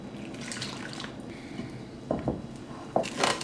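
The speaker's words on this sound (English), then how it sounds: "Throwing in some water." Water poured into bread dough in a home kitchen: a soft trickle and a few small splashy drips, fairly faint and close, with quiet background noise and no talk.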